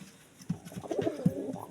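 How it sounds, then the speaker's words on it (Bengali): Soft, low cooing from pigeons close by, a few murmuring throaty calls in a quiet setting. "তোমরা দেখতে পাচ্ছ এই যে আমার কবুতরগুলো"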